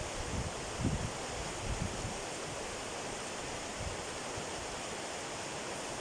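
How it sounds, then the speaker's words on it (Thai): A natural stream flows in a snowy landscape near the end of winter, a steady close rushing and gurgling of water that stays constant throughout with no voices. "เป็นไงคะท่านผู้ชมคะเสียงน้ำไหล"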